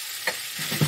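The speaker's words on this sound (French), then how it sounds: "je vais mettre mes boulettes de viande hachée. Hop. Directement dans la poêle." Minced meatballs dropped into a hot frying pan, a brief close sizzle with a couple of soft knocks as they land.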